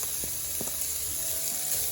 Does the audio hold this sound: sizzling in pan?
yes